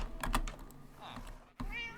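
A calico cat meowing in the Minecraft video game, a brief high game meow near the end over keyboard typing clicks and background game sound, moderately loud.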